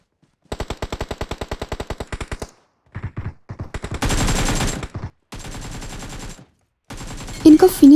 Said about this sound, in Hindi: पीछे से गोली का साउंड आया